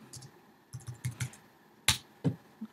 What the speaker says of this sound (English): if I type something